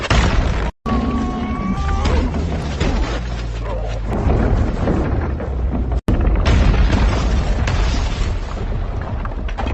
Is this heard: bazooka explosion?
yes